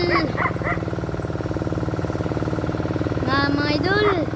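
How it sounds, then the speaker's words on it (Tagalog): Farm dogs at a rural house in the Philippines bark and yip in short bursts at the start and again near the end, over a loud, steady tractor engine drone, with someone talking. "ito pa yung mga aso namin"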